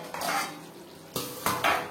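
A lid clanks down onto a pot of shol fish curry with potato and green banana on a low-to-medium gas flame. Several sharp metallic knocks and scrapes ring out close by over a quiet background, with no one speaking.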